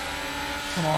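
Race car engine in a racing video game on the Jeddah street circuit at the 2021 Saudi Arabian Grand Prix: a steady buzzing drone that swells and rises in pitch near the end, with a voice heard over it.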